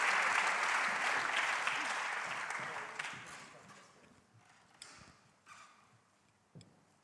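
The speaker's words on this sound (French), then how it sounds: "Bravo, on vous applaudit très fort" Loud audience applause at the Choose France awards ceremony starts dense and full, then thins and fades over several seconds, leaving a few scattered claps and taps near the end.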